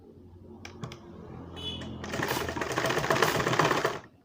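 A few faint mechanical clicks from a sewing machine come first, then it runs in a loud continuous burst for about two seconds, stitching blouse fabric at close range.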